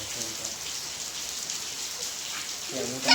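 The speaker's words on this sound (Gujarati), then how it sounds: "વરસાદ ચાલુ છે તો વરસાદ જોવો" Steady rain patters and hisses continuously, with a brief murmur of a voice in the background toward the end.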